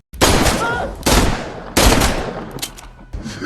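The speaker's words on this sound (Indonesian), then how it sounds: "mendengar suara tembakan" Gunfire from a film scene, with several loud, close bursts of shots in quick succession, each followed by a decaying echo.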